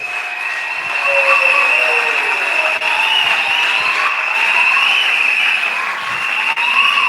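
A church congregation applauds during a Sunday service: dense, sustained clapping that stays loud and steady for about seven seconds, with no break.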